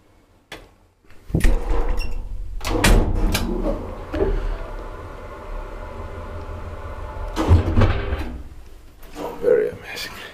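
A 1965 Epilän Konepaja traction elevator in a spa hotel runs down to the basement, with heavy door clunks and slides at the start and end and a low mechanical rumble between, close and reverberant, with occasional voices.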